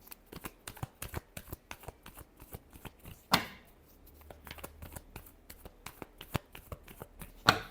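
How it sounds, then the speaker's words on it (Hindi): Tarot cards being shuffled by hand, with a steady run of crisp, close slaps and riffles and two louder snaps along the way. No one speaks. "Last shuffle."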